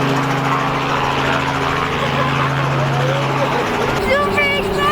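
Steady droning rotor and engine noise fills the cabin of a small helicopter in flight, loud and continuous, with voices talking over it.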